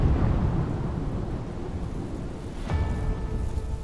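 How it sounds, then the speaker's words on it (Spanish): Thunder from a storm approaching a swamp: a loud, continuous rumble with rain hiss throughout, swelling into a sharper crack and a fresh surge of rumbling late on. "El único problema es que se avecina una tormenta."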